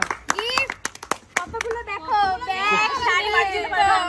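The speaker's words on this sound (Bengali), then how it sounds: "চলো বোনের জন্য জোরদার তালি একটা" Children clap for a sister during a bottle-flip game at home: a quick run of sharp, close handclaps at first, then excited children's voices chattering over fading claps.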